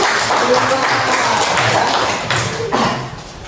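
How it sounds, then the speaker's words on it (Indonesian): An audience gives group 2 a steady burst of applause in a classroom or hall, dense close clapping lasting a few seconds before tapering off. "Tepuk tangan kita berikan untuk kelompok 2."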